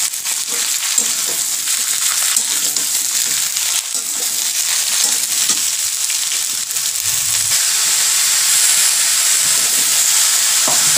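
Dried chillies crackle and fry in hot oil, a steady close sizzling hiss that runs loud and unbroken throughout, with no voices over it.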